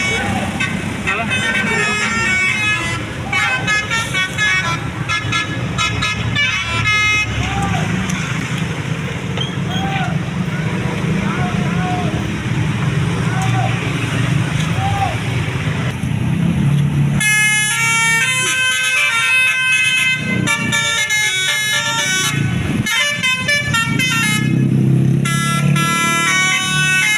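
Basuri telolet musical horn on a bus, playing repeated melodic tooting phrases, loud and close, alongside engine and traffic noise with people talking throughout.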